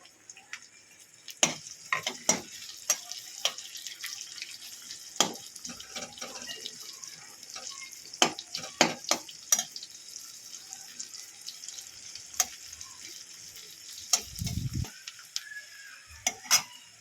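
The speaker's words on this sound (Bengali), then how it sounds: "পেঁয়াজটা ভাজা হোক" Onions and dried red chillies fry in a pan, oil sizzling steadily with a bright hiss, broken by scattered crackles and pops and a few sharper clatters. No one speaks.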